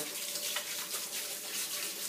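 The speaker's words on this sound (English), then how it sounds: "rinsing this hair, rinsing the conditioner." Running water pours steadily while lukewarm water rinses conditioner out of knotty natural hair, a close, even splashing hiss with no talking.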